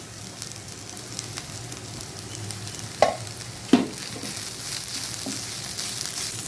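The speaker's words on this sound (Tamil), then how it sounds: "கருவேப்பிலை தேங்காய் எல்லாத்தையும் சேர்த்து நல்லா வதக்கி விட்டுடலாம்" Onion, green chilli, curry leaves and grated coconut are sautéed in a pan for Chettinad kara kuzhi paniyaram. A low, steady sizzle runs throughout, with two distinct clacks of a spatula against the pan partway through.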